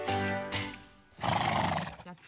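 A horse neighs close by in two loud whinnying bursts, the second longer and rougher, with faint background voices.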